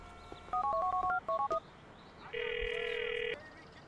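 A cell phone in GTA 4 dials a number in a quick run of about a dozen short keypad beeps, then a single longer electronic tone, crisp and clear over faint background hum.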